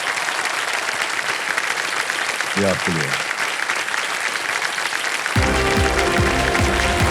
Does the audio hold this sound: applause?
yes